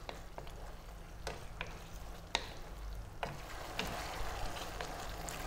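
Thick cornstarch-and-oyster-sauce gravy for pork and broccoli cooking in a pan, with a steady soft sizzle and bubbling broken by a few sharp spoon stirs and taps against the pan.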